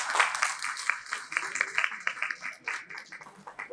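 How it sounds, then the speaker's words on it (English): Audience at a team-building management workshop claps in a steady, dense round of applause lasting throughout, fairly close and lively, with no speech over it. "I want a big round of applause for all of you"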